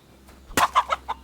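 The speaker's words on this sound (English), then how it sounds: "Someone wanted me to punch a chicken." A chicken in Kingdom Come: Deliverance II lets out a sharp squawk followed by three or four quick clucks, close and clear against a quiet background.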